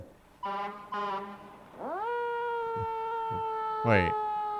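A siren tone rising and holding steady, with short wavering bursts before it and a brief warble near the end; fairly close and clear.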